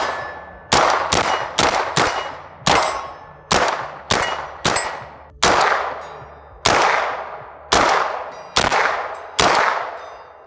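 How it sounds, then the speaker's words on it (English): Shots from a PSA JAKL 9mm pistol-caliber carbine ring a 100-yard steel gong, about a dozen sharp cracks each followed by a metallic clang that decays briefly, fired in an uneven, fairly quick cadence with no talking. "That's the 100-yard gong."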